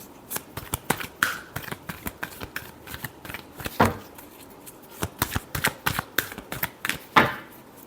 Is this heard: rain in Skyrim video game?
no